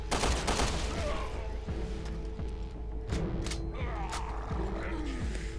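Uzi submachine gun fire in the game Resident Evil: Revelations 2, quick bursts and scattered sharp shots at moderate level over a low rumbling game backdrop with a faint growl.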